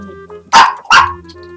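A dog in the video game PokeLute2 gives two loud, close barks in quick succession over quiet game music.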